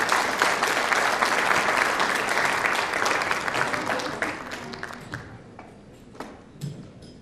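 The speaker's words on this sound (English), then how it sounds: "please give her a round of applause for serving our country" An audience at a business conference gala applauds Tammy Duckworth, a military veteran, with loud sustained clapping that gradually thins and fades to scattered claps.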